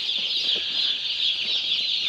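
Steady high chirping and peeping from a crowd of baby chickens, continuous and fairly loud, with a few soft lower clucks underneath.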